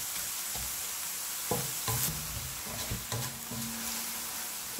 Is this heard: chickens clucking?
no